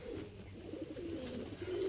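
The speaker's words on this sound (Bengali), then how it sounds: "দেখে পায়রা সমস্ত ছাড়াই আছে" Pigeons coo softly and continuously at close range in a loft or rooftop coop, a low murmuring rumble with a few faint chirps, and no voices.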